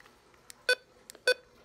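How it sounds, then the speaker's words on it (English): A Midland HH54 handheld radio at power-on gives two short, low-pitched electronic beeps about half a second apart, clear against quiet handling noise. "It has the lower beeps."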